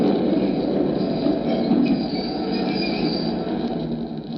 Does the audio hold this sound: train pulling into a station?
yes